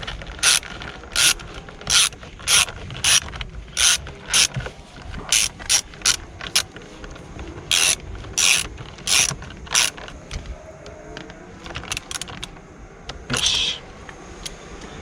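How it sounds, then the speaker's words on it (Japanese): Ratchet wrench tightening a nut while installing a new steering wheel on a Nissan Skyline GT-R R32, heard as repeated bursts of sharp, close metallic clicking with short pauses between strokes. "ラチェットで締めていきます。"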